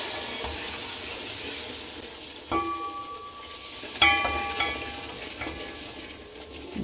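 Hot sugar syrup poured into semolina roasting in a pan for halwa, giving a soft, steady sizzle and stir with a few sharp metallic clinks of a utensil against the pan; no one speaks.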